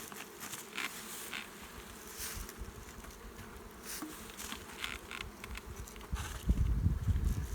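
Honey bees buzz steadily around beehives, a dense continuous drone with individual bees passing close now and then, and a louder rustle near the end.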